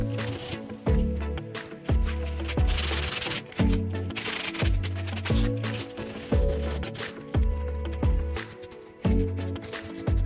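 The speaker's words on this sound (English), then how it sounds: "Sanded as much as I'm going to sand her." A wooden scroll saw wall decor piece is sanded by hand in steady, repeated rubbing strokes, roughly a dozen rhythmic scrapes, close and loud with no talk.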